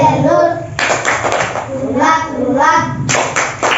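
Children in a classroom clap a rhythmic clapping game, sharp claps in quick groups alternating with the children chanting together, with a teacher's voice nearby.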